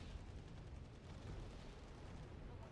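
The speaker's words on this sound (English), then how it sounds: "There's the carpet bombing." A carpet bombing strike rumbles across the battlefield in the Wargame Red Dragon zombie defense mod, a dense run of distant explosions blending into a continuous low roar with no clear gaps between blasts.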